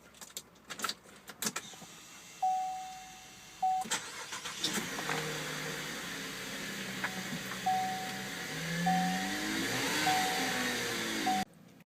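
A 2012 Chevrolet Captiva LTZ AWD is started with the key: a few warning chimes, then the engine cranks, catches and settles into a steady idle close by, with more chimes sounding over it. No one speaks.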